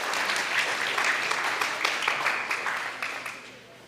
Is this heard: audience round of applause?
yes